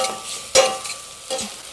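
Chopped tomato hits hot coconut oil with spices in a pan, giving a bright sizzle with two sharp bursts as it is stirred, close and clear with no talking.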